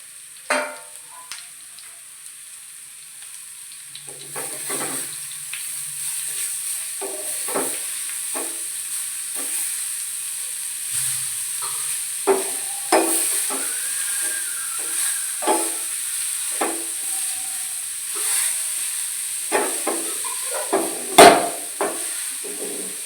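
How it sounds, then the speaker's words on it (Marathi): Grated carrot sautés in ghee with a soft hiss of frying, broken by repeated sharp knocks and scrapes of a spoon stirring against the pan. "किसलेलं गाजर टाकून घ्यायचं गाजर चांगल्या तुपामध्ये परतून घ्यायचं"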